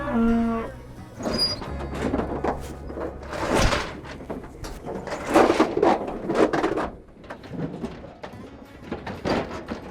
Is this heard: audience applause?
no